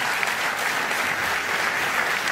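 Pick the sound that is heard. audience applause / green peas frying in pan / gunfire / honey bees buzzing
audience applause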